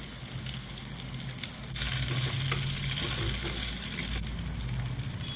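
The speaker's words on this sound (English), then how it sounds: "Fry till orange skin is easy to break." Kamala orange skin pieces fry in oil with cumin, green chili and fenugreek, giving a steady close sizzle that grows louder and fuller partway through, with occasional stirring scrapes.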